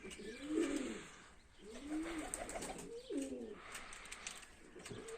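Pigeons coo in soft repeated phrases, three or four rolling calls with short pauses between, fairly close against a quiet background.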